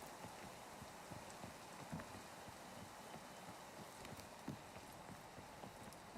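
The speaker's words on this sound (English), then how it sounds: "There's the rain." Rain falling in a video game, a dense steady patter of drops with scattered louder taps, fairly faint and continuous throughout, no talk.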